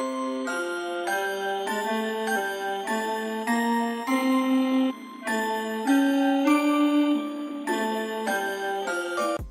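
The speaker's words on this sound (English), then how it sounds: "here's what the sample sounds like with bells layered over it" A bright melodic Pokémon sample plays in steady repeating phrases in FL Studio, layered with ringing bell tones that chime on each note, with no voices.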